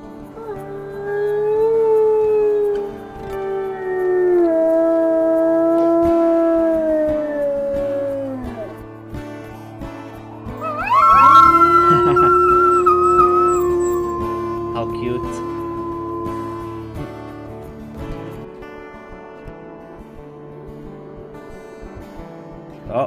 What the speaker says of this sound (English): You can also howl.